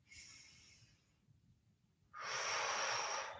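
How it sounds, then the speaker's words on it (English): Deep breaths during a core workout: a soft inhale, a quiet pause, then a louder, longer breathy exhale, close and alone over faint background music. "Let's take 2 breaths here."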